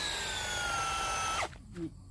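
A power drill is tried out for the first time, its motor whining steadily and fairly loud for over a second before winding down and stopping, followed by a short low thump and quiet room noise.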